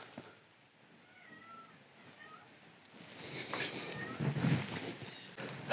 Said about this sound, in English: I have barn cats and they keep meowing at me